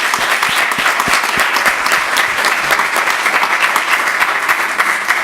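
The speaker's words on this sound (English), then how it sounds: "I want you to, with a round of applause, one more time, acknowledge yourselves" Sustained audience applause filling a lecture hall, dense steady clapping from a large crowd, loud and even throughout with no pauses.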